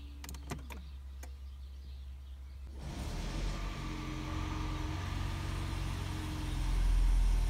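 A second-generation Toyota Prius running with no warning lights: a few faint clicks and thumps, then a steady low hum and whir of the hybrid system that rises slightly toward the end, close and quiet, with no talking.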